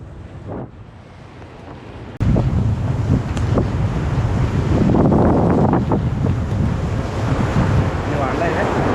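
A rain-swollen village river in the Konkan flows over its banks, a loud, broad roar of rushing water mixed with heavy wind buffeting on the microphone.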